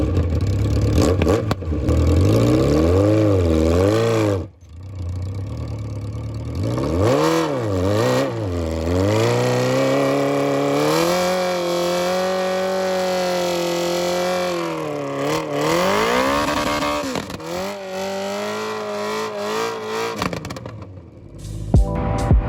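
A Honda CB750 cafe racer motorcycle revs repeatedly while breaking in new tires, its loud engine swooping up and down in pitch, easing off briefly and then surging in long, wavering bursts.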